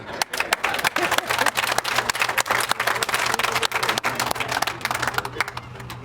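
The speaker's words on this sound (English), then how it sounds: "Everybody stand up and give yourselves an applause." Audience at a wastewater treatment plant groundbreaking ceremony standing and applauding themselves, with many hands clapping in a lively, uneven burst that stays loud and close, then thins slightly toward the end.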